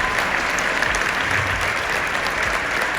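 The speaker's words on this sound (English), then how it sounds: "give the team a huge round of applause for everything" A large crowd on the final day of the WealthCon event in July 2023 applauds continuously, a dense, loud, even roar of clapping with no break.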